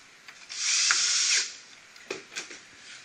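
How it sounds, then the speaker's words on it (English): A power drill drives a screw back into an Ammo-Up 16-inch unit, giving one close, sharp whirring burst of about a second, then a few short clicks and taps of handling, with no talking. "reinsert the screw"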